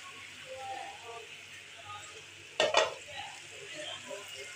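Spices such as red chili, black pepper, cumin, salt and cinnamon stirred into potatoes and peas frying in a pan, a steady low sizzle with one sharp clatter of the spoon midway.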